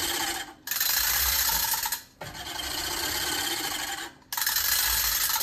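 A Ransomes Ajax cylinder lawn mower running, its blades and rollers giving a steady close whirring rasp that fades briefly twice, like short pauses in pushing, with no talk.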